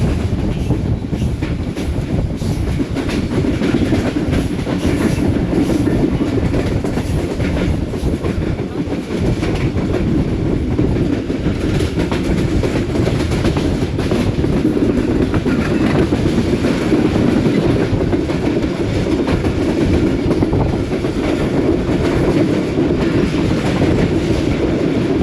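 The Subak Raftar railcar runs on tracks between Gujrat and Rawalpindi, giving a loud, continuous rumble with rhythmic wheel clatter heard from on board, with no voices throughout.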